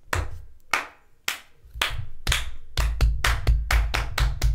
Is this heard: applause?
yes